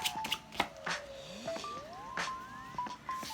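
Quick, crisp riffling bursts of playing cards being shuffled, repeated several times up close, with faint whistling tones in the background.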